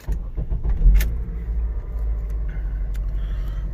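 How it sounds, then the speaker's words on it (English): A 2008 Honda CR-V engine starts up: a brief starter burst followed by a low, steady idle rumble heard up close inside the car, with a faint click or two. "let me start the car"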